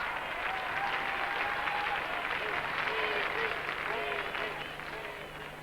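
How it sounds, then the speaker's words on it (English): A Bulgarian crowd applauds wildly at a 1984 rhythmic gymnastics European Championships event, with dense, sustained clapping that fills the hall, some crowd voices mixed in, and a gentle fade toward the end. "The Bulgarian crowd going absolutely wild."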